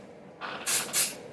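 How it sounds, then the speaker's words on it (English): Texturizing hair spray misted from an aerosol can onto the lower section of long bob hair, two or three short, close hissing bursts in quick succession. "I'm actually gonna spray with the constructor just along the bottom section"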